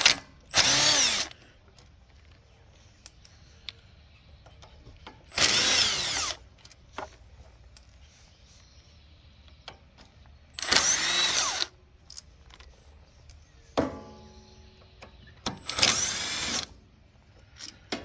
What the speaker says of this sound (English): So let's get these screws out of here.